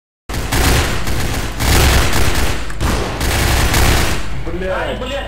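Rapid gunfire bursts and explosions from the video game Half-Life 2, loud and dense, with sustained automatic fire filling the scene before trailing off into a quieter tail.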